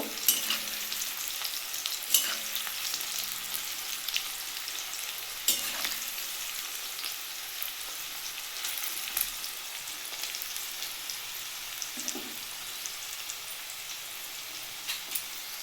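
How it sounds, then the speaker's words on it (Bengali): Spiny gourd (kakrol) slices fry in a pan of oil with a steady, dense sizzle and crackle, joined by a few sharper pops and spatula scrapes, close and continuous throughout with no talk. "আর একটু লাল করে বেশি কড়া করে ভাজবো না যেহেতু আমি এটা ভর্তা করব"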